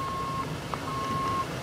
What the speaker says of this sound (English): And the vehicle moves in reverse.